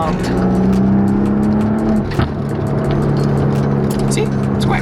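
2020 Maserati accelerating, a loud, close engine roar holding steady before dipping briefly and building again, with a sustained low growl and some rushing road and wind noise.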